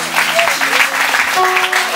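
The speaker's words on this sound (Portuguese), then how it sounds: "as palmas para Jesus" Congregation at an evangelical church gathering claps in applause, a steady, fairly loud patter with singing or voices mixed in throughout.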